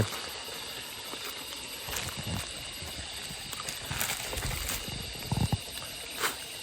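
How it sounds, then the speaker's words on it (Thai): Steady flowing water at a forest campsite in the rainy season, a continuous hiss and gurgle running throughout, with occasional faint knocks and rustles near the camp. "เสียงน้ำไหล"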